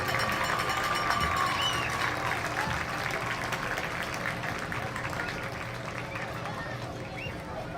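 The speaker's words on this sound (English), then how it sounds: "Let's give a nice round of applause to these seniors on senior night." Steady crowd clapping and cheering for seniors on senior night at a Greenwood sports game, moderately distant in a large venue, with voices talking underneath.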